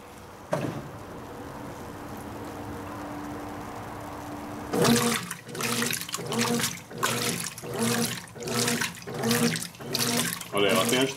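A Brastemp 16kg top-load washing machine on turbo agitation, with water sloshing rhythmically in repeated strokes. Steady running water is heard first, then the agitation starts and continues loud and close.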